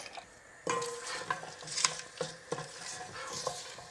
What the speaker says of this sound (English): Just going to let this sizzle up, and also add in a stick of cinnamon.